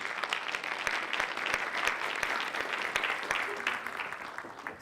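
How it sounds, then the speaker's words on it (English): An audience at a virtual reality keynote applauds the incoming speaker: dense, sustained clapping from a large crowd that holds steady for about five seconds. "Round of applause."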